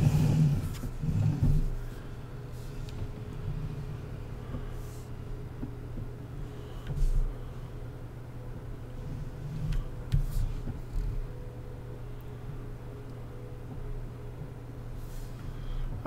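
Low steady drone of a tractor engine in Farming Simulator 19, idling and cruising for a long stretch with occasional revving swells and light ticking clicks, no voices.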